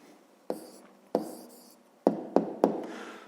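Pen or chalk marking down an answer to a fifth-grade math exercise, a handful of distinct taps and short scratchy strokes spaced irregularly, quiet and close in a still room.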